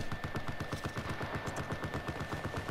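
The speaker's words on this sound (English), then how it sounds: "I'm thinking they're shooting randomly." Rapid automatic gunfire in the Battlefield 4 video game, a dense, steady stream of loud shots with a rattling rhythm running through the whole stretch.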